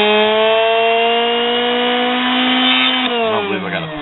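Mini belt grinder with a seven-speed motor running alone, a loud steady whine with strong harmonics that holds for a few seconds, then winds down and wobbles near the end.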